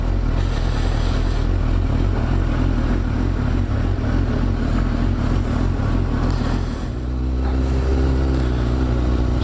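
Suzuki GSX-R600 sport motorcycle ridden on the road, its engine droning loud and steady throughout with a brief dip in pitch near the end before settling into a lower, rumbling note, heard up close from the rider's position amid wind noise.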